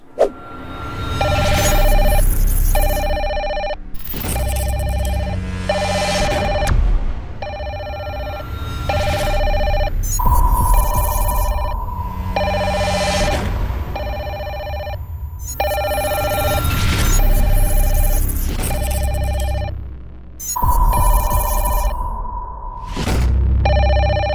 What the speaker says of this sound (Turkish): Gizemli çalan telefonlar.